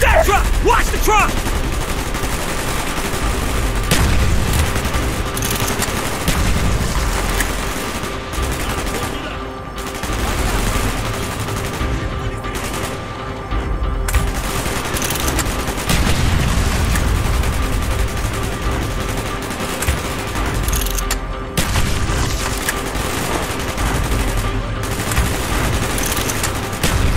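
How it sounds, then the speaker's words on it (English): Rapid bursts of gunfire rattle almost continuously in Call of Duty: Black Ops, with heavy rounds and scattered louder shots mixed in, and voices are occasionally heard beneath the shooting. "Gunfire's drawing attention."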